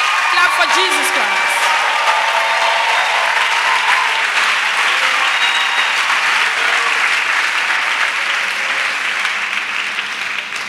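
Loud, sustained clapping fills a church as the congregation applauds Jesus Christ at a revival service, a dense unbroken roar that tapers slightly toward the end, with a few voices blended into it.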